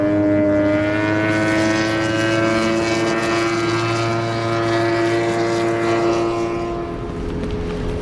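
Racing boat motor and propeller powering up for takeoff, a loud sustained engine roar with a steady whining tone and a churning, rushing layer of water, close and continuous.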